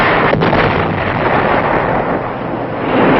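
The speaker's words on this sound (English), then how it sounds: "artillery, and the B-52s start their aerial bombardment" Artillery fire and B-52 aerial bombardment pound Khe Sanh during the 1968 battle, a loud, continuous roar of heavy distant and near blasts rumbling together without pause.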